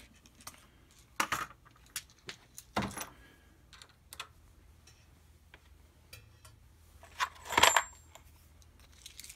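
A Lee Safety Prime priming tool is handled and pressed, giving several small, sharp metallic clicks and rattles at close range, separated by quiet pauses, with one louder cluster near the end.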